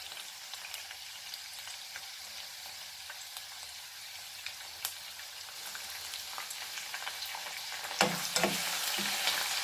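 Ginger garlic paste sizzles in a hot pan for a Goan beef keema, a steady crackling hiss with a few sharper spatters and stirring scrapes near the end.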